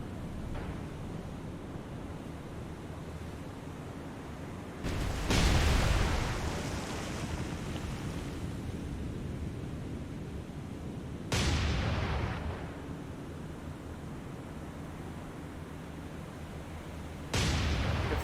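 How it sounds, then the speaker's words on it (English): Naval secondary guns fire high-explosive shells in the War on the Sea game, three loud booming shots spaced about six seconds apart, each trailing off over a constant roar of wind and surf, with no talking. "Let's go ahead and fire HE with your secondaries."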